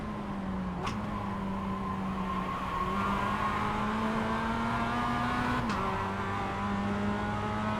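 A Mazda MX-5 engine in a racing video game on a slippery track, a steady mid-pitched drone whose pitch rises slowly, with a sudden downshift near the end and two brief sharp clicks, no voices.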